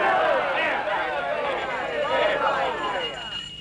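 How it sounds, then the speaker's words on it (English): A crowd of townspeople in a 1967 spaghetti western film roars a cheer together, a loud burst of many overlapping voices that fades slightly toward the end. "Let's have a cheer for gold."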